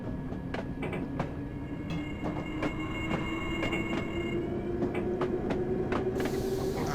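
A London Underground D78 Stock train rumbles steadily nearby, with a rising motor whine, rhythmic clicks of wheels over rail joints and a burst of hissing air near the end; no one speaks.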